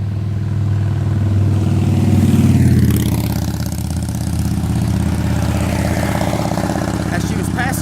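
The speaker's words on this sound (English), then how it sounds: "we got a motorcycle coming up" A motorcycle comes up along a road, its engine drone rising in pitch and swelling as it draws near, then shifting as it passes and moves on.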